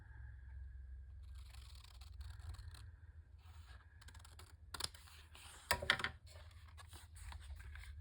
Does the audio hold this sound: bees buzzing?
no